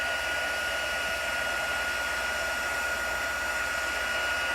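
A heat tool blows steadily to melt embossing powder during a glitter paste craft, a loud, continuous airy whoosh with a faint whine, unbroken and with no talking.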